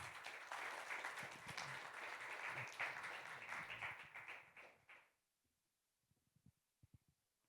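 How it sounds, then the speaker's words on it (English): An audience applauds loudly and steadily for about five seconds, then the clapping stops abruptly, leaving a few faint scattered sounds. "Give them a round of applause, please"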